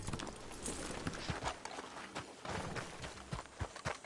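Horse hooves clip-clop in a video game, a soft, fairly rapid patter over a busy low rumble that keeps going throughout.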